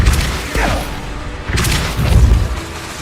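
Expulso spell blasts going off in Hogwarts Legacy combat, a few heavy booming thuds around 0.6, 1.5 and 2.2 seconds over a rumbling game mix.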